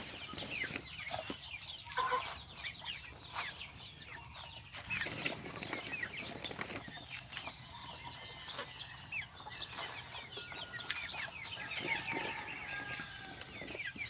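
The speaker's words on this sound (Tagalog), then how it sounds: "Sila yung mga heritage chicken, mga boss." Heritage chickens, Rhode Island Reds and native birds, cluck and chatter softly throughout in a farm yard. Scattered sharper calls and some wing flapping rise over a faint, busy background, with no talking.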